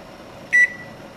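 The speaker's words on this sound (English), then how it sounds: "I'm going to come over to the microwave. I'm going to set my timer for 56 minutes" A single short, clear electronic beep from a microwave oven timer being set in a home kitchen, fairly close against a quiet room hum.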